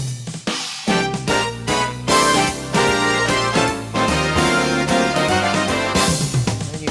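Fanfare rhythm from a home keyboard's full-band accompaniment, loud brassy chords over bass and drums in a bouncy march-like pattern, playing continuously with no talking.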